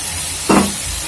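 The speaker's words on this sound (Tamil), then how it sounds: "இப்போ நல்லா வதக்கிக்கணும்." Spices sautéing in a pan for a green banana curry with sambar powder, chilli powder and turmeric: a steady frying hiss with one short scraping stir in the middle.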